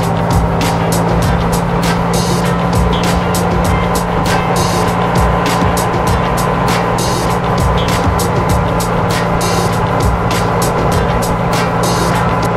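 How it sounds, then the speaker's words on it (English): A golf cart driving along, a loud continuous motor whir and rumble with wind buffeting, close and steady throughout. "go for a golf cart ride"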